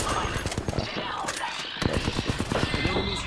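Bursts of gunfire in the battle game Apex Legends, with rapid overlapping shots and impacts crackling under in-game voice lines and a busy mix of combat noise.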